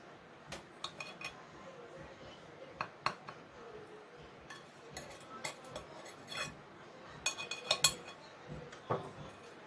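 A knife slices another piece of a homemade everyday cake, with quiet scraping and sharp clinks of metal against a plate or pan scattered through the quiet, close and fairly faint.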